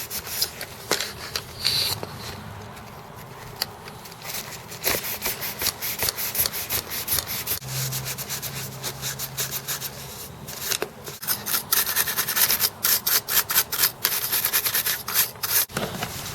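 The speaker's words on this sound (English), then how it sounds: "Even the fronts, you can see, just the wiping the grooves and things here on the front" A cloth wipes along the grooved front casing of a fat Sony PlayStation 2 during cleaning, giving close, repeated rubbing strokes with scratchy bursts and no talking.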